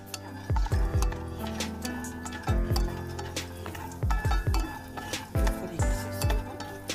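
A spoon scrapes and clinks against an oil pan while peanuts are stirred and roasted, loud, sharp metallic taps coming in quick clusters of two or three with short pauses between them, and no voices.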